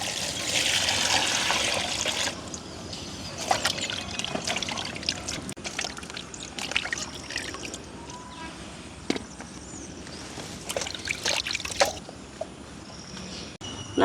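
Onions, green chilies, tomatoes and peeled garlic are washed by hand in water for a rain-day tin fish curry: steady sloshing and trickling with splashes and light clinks, close and moderately quiet, and there is no speech.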